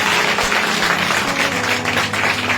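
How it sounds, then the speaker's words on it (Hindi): Audience clapping loudly at a gathering, dense continuous applause filling the whole moment without pause. "और एक बार जोर से ताली बजा दो,"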